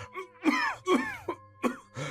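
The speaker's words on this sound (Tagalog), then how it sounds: "bakit parang ang tindi po ng ubo niyo?" A person coughs and clears their throat repeatedly, several harsh, raspy bursts close to the microphone.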